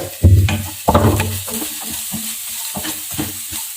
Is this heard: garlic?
yes